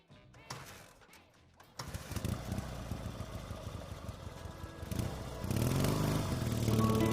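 A motorcycle engine starts up and runs with a rough, throaty drone, growing louder and revving higher toward the end.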